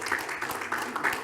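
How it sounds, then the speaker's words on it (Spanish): A short burst of conference audience applause welcoming a speaker, a dense patter of many hands clapping at moderate volume. "Le damos un gran aplauso."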